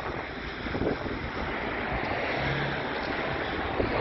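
A large Hurricane leaf blower fan runs outdoors with a steady, loud rushing roar of air and noise, continuous throughout with no talking.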